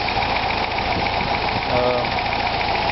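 A 1982 Toyota pickup's 22R four-cylinder engine idles with a steady mechanical rattle and ticking, close and continuous, with a brief louder rise near the end.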